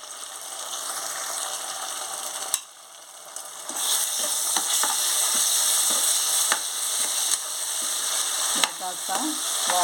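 Ginger garlic paste frying with onions, green chillies, masala and mutton keema, a loud continuous sizzle with clicks of a spatula scraping the pan, briefly dipping before surging back.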